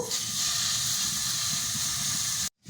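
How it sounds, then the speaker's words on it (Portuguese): Chicken breast dropped into a hot pan with a drizzle of olive oil on a wood-burning stove gives a loud, steady sizzling hiss that cuts off abruptly near the end. "Vou jogar um fiozinho de azeite aqui na panela, que já está quente. Vou adicionar agora o peito de frango."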